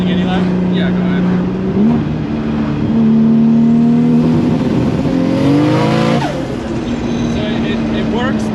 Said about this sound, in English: we're gonna take the R32 out just to make sure the rolling anti-lag's dialed